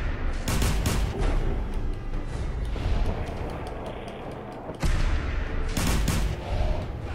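Gunfire in the video game Fallout 4, bursts of loud, close shots in quick succession, then a quieter gap before another rapid burst of firing.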